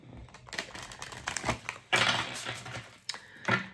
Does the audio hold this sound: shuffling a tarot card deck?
yes